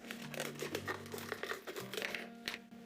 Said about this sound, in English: Now take a plastic bottle and cut off the bottom.